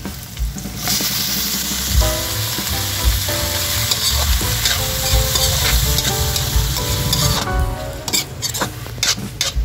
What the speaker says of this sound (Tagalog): Translucent na yung ating sibuyas, kaya isunod na natin yung ating kamatis.